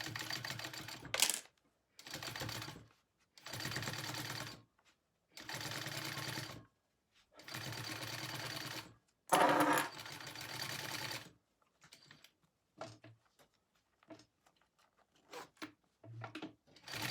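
A sewing machine stitches a wallet lining onto a zipper in short, rapid bursts separated by pauses, followed by quieter clicks and handling noises as the fabric is adjusted.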